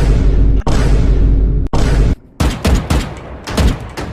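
Loud close gunfire from a video game: a few heavy booming shots followed by a rapid burst of crackling fire with short pauses between volleys.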